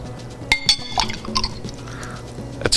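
Glass clinks against a pouring vessel while liquid is poured: several bright, ringing taps spaced through the pour over a soft, close trickle, with no talking.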